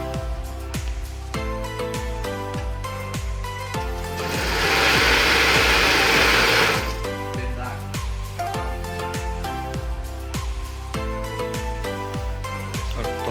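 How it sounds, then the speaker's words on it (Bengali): A sewing machine stitches a rubber mattress cover with a close, rhythmic mechanical clatter and a louder, sustained whirring run partway through, with no talking. "এখন আমাদের এই প্রোডাক্টটি সেলাই হবে।"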